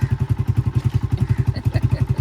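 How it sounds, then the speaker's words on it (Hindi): A scooter engine is revved hard in short repeated bursts, a loud, close, rhythmic pulsing throb with a steady beat throughout and no talking over it. "दो रेस दो, रेस दो मोहम्मद अली।"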